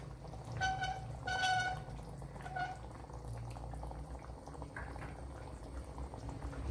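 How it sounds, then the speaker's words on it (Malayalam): Onion and tomato masala for egg roast bubbling in a pan, a faint continuous simmer with soft popping, plus a few brief higher-pitched squeaks early on. "അതുപോലെ നല്ലപോലെ തിളപ്പിക്കണം."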